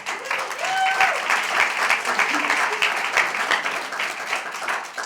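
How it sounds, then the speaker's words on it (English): A round of applause from a small audience crackles steadily for several seconds, with brief voices and a whoop mixed into the clapping. "Give her a round of applause."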